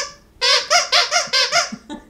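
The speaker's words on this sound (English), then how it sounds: "possum. Squeak it, squeak it." Squeaky plush possum dog toy being squeezed: five quick, loud, high squeaks in a regular rhythm, close by, followed by a softer squeak at the end.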